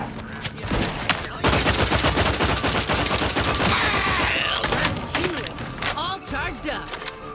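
Heavy sustained gunfire fills a firefight in The Outer Worlds 2, with rapid overlapping shots after a brief lead-in and voices talking over the noise.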